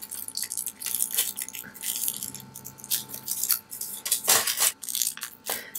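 A resin and hot glue coaster is broken and pried out of a silicone mold lined with foil, giving close, irregular crackling, snapping and crunching with scattered sharper cracks.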